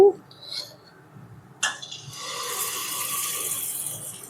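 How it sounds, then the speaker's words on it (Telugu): Spoonfuls of batter for pongadalu drop into hot oil in a kadai for deep frying. After a soft, quiet start, a sudden splash sets off a steady, close, bubbling sizzle that continues to the end. "ఆయిల్ బాగా వేడైనాక గుంటగింటితో పిండిని తీసుకొని వేసుకోవాలి."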